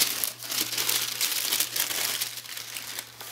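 Packing paper crinkles and rustles up close as it is pulled from a rapper's merchandise fan box, in a dense burst of crumpling without speech.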